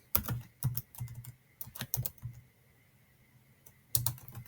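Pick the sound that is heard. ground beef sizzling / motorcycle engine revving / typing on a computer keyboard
typing on a computer keyboard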